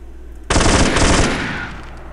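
A machine gun fires in Black Ops 2 gameplay, a sudden loud rattling burst lasting under a second, then a fading echo tail, up close with no talk.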